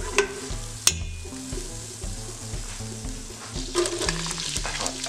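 Butter sizzles and crackles steadily in a hot pan as a sauce base, with a couple of sharp clicks early on and a bright, close frying hiss throughout.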